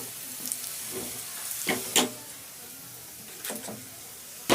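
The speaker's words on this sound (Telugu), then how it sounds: "కరివేపాకు. వేగిపోయింది ఇది." Curry leaves with onions frying in oil for a dal dish, a quiet steady sizzle broken by a few short stirring scrapes.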